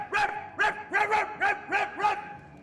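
Dogs barking in a steady run of about six sharp, evenly spaced barks, moderately close and loud, with no talk over them.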